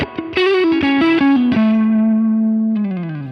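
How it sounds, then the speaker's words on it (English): An electric guitar through a Cornell Legacy Fuzz in the effects loop of a Fender Tone Master Pro plays a short run of fuzzy notes, then sustains a thick distorted note that slides down at the end. "Sounds like a great fuzz to me."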